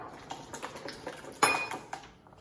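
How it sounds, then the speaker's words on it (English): Batter with pomegranate seeds being whisked in a bowl for flourless banana and oat crumpets, quiet rhythmic taps and scrapes with one sharper clink of metal on the bowl. "we're going to whisk that all together"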